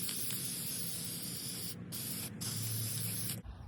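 Heavy coat of Rust-Oleum semi-gloss clear sealant sprayed from an aerosol can onto mosaic pieces, a steady close hiss with two brief pauses before it cuts off.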